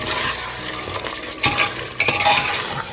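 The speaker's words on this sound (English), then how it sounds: "Now mixing everything well" A spoon stirs mutton korma with fried onion paste and natural yogurt in a pot, producing scraping, wet clanking strokes with a couple of sharper knocks over a faint background sizzle.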